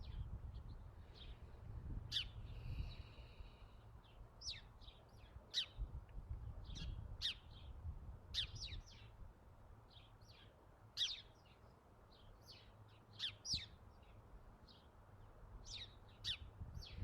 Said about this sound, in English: Sounds of the birds surrounding me are beautiful.